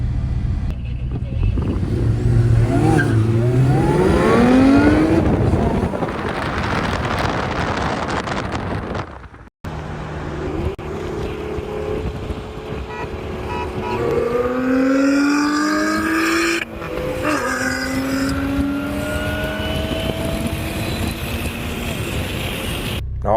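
A Lotus Emira sports car launching uphill on launch control, its engine note climbing hard through rising sweeps before settling into a steady drone with wind rush, while people talk inside the car.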